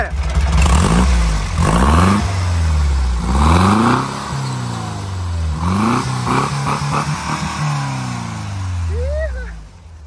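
A VW Beetle with a Camaro exhaust revs repeatedly, each blip climbing and falling in a string of loud, close bursts before dropping back toward idle, with a short voice near the end.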